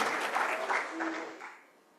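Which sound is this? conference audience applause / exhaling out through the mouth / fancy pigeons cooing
conference audience applause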